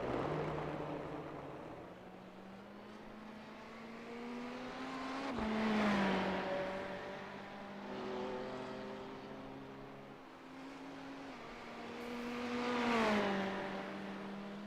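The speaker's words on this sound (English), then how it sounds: "the Ferrari absolutely caning its way through McPhillamy Park" A Ferrari race car in iRacing at Bathurst's McPhillamy Park, its engine climbing through the revs in rising harmonic sweeps with gear shifts, swelling loud and easing off twice, alone without talk.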